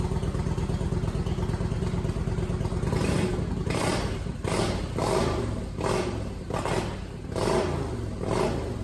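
Kawasaki Vulcan VN900 bobber motorcycle engine idling with a steady low rumble, then rising in a series of rhythmic throttle blips, near and loud, with no voices.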